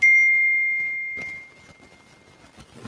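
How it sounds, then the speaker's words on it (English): A single bell rings out clearly during a live show, its bright tone sustained and slowly fading for over a second before background noise and faint movement take over. "the bell came right after that"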